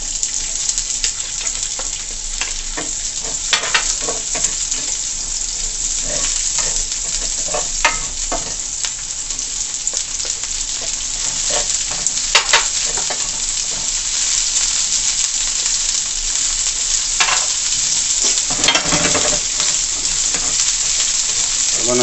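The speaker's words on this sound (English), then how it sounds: "now I'll be sauteing my herbs" Herbs sautéing in a pan for Jamaican chicken chow mein give a steady, close sizzle and crackle with occasional stirring clatter throughout, no voices.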